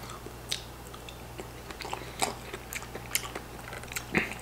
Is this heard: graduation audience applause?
no